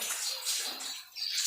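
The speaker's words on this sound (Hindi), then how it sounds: "पानी लेकर आराम से मारना है" Gentle splashing of water onto the face during ablution (wudu), a soft continuous wash of sloshing water that lasts a second and a half, with a brief lull near the end before the splashing resumes.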